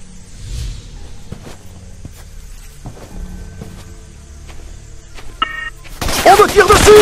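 Gunfire in the jungle shooter Raven Squad, with scattered faint shots and clicks over a quiet background, then a sudden loud burst of fire mixed with a shouting voice near the end.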